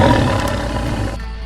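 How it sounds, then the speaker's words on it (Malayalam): A cartoon tiger in an animated comedy gives a loud, close roar that fills the whole clip, then cuts off sharply near the end. "അയ്യോ കടുവ! അയ്യോ കടുവ!"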